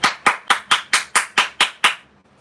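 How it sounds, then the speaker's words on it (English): One person claps hard and loud, nine sharp, evenly spaced smacks up close, followed by a short stretch of quiet. "Have you guys ever met somebody who, like, when they clap, they have to be as loud as possible?"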